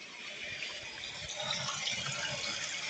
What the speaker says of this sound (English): So I actually had to go and use this tap right here.